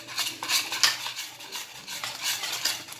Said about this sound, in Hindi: अब देखते हैं, इसे अच्छे से मिक्स करते हैं और इसे हमें अच्छे से घोटना है।